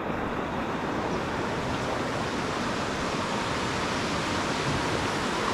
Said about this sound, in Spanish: esto que es el río